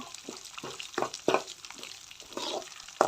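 Ingredients for Mangalore-style sambar frying in a pan, a soft steady sizzle broken by close scraping stirs every fraction of a second.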